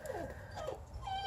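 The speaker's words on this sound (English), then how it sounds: "Sorry about my dog, he keeps whining," A dog whining just outside during a Honda Civic turbo kit install, a brief quiet high whimper rising and falling twice in close succession.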